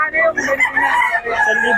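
Gamefowl hens and a rooster, Gilmore two-way cross birds, at a rooster-selling spot in Bocaue; a rooster crows loudly and close with harmonic, drawn-out calls while other chickens cluck around it.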